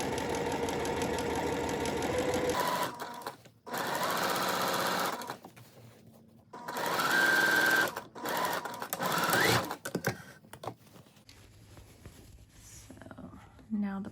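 A sewing machine stitches a French-seam pocket, the fabric pivoted by hand around a curved pocket seam; loud bursts of close running motor and needle chatter come in several separate runs, broken by pauses for turning.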